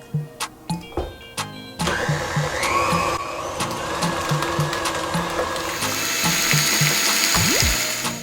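An electric mixer beats butter and powdered sugar for cream cheese frosting, a loud steady mechanical whir after a few short starting bursts, running on alone.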